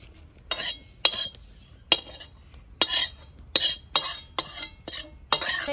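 Roasted coconut being scooped out of a pan, a series of scraping, clinking strokes of a spoon against the metal, each a short burst separated by brief pauses.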